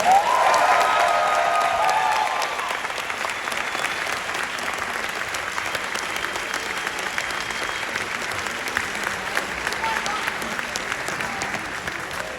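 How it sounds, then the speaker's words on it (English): An audience at a book signing event with author Geri Halliwell-Horner gives one more round of applause, steady crowd clapping lasting the whole stretch, with a voice briefly over it at the start. "How about one more round of applause?"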